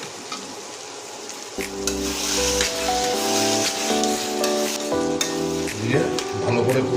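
Spiced masala with potatoes for matar paneer sizzles steadily in a pan, with a utensil stirring and scraping against the metal in close, repeated strokes.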